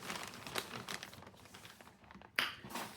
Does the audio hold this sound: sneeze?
no